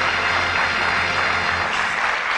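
Studio audience on a British darts-themed game show applauds steadily and loudly, a dense wash of clapping that fills the whole moment without any talk over it.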